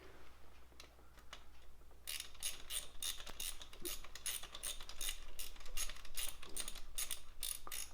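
A ratchet tightens glow plugs on a 1.9 ALH VW TDI diesel engine, with a run of quick, steady ratcheting clicks that starts softly and grows denser and louder, close by with no talk.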